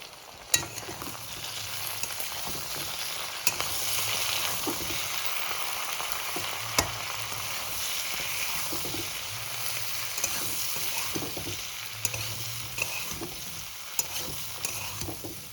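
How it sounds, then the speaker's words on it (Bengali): Vegetables with turmeric fry in a pan as they are stirred and turned, making a continuous sizzle broken by occasional sharp clicks and scrapes from the utensil, moderately loud and without voices. "হলুদ দিয়ে আমি ভালো করে সবজির সাথে ওপর নিচ করে ভালো করে নাড়াচাড়া দিয়ে মিশিয়ে দেব"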